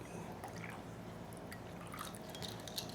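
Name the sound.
water poured into sesame chicken sauce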